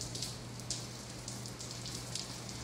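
Steady rain falls outdoors in West Texas, a dense continuous patter with a faint low hum underneath and no voices.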